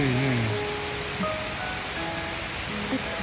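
Heavy rain falls as a constant dense hiss, a steady wash that fills the clip, with a faint voice trailing off at the start.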